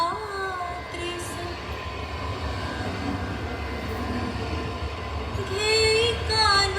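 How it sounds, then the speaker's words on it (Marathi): A slow local train bound for Kasara pulls into a station platform with a steady low rumble and rolling wagon noise, squeals and tonal whines rising near the end, nearby and fairly loud throughout. "कसाऱ्याला जाणारी धीमी लोकल प्लॅटफॉर्म क्रमांक 4 वर येत आहे."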